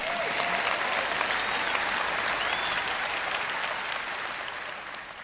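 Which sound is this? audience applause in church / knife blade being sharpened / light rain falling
audience applause in church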